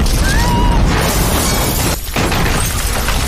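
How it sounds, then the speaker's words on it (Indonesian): A loud blast goes off in a room in an action film, a dense burst with crackling debris and a rumbling low end, briefly dipping before the roar and rattle resume. "sebuah ledakan dahsyat terjadi persis di kamar si gemoy"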